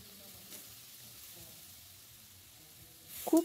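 Thinly sliced radish simmering in boiled red lentil dal in a wok, a faint steady bubbling sizzle with a louder stir or clatter right at the end.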